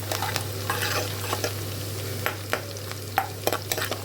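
Food fries in a pan with a continuous close sizzle, broken by sharp stirring scrapes and taps that grow more frequent toward the end, over a low steady hum.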